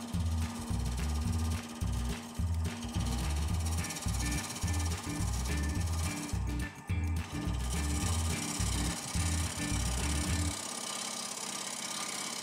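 A sharpened woodturning tool cuts a natural-edge maple vessel with no bark on a lathe, a loud rhythmic chattering and thumping as the spinning piece hits the tool, ending in a steady motor hum.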